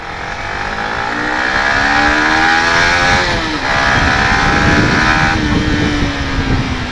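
A lightweight dirt bike with a Yamaha R15 engine is ridden close by, its engine rising in pitch as it revs, dipping briefly, then revving up again, loud and alone.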